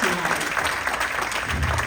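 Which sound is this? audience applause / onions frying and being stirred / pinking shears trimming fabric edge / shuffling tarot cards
audience applause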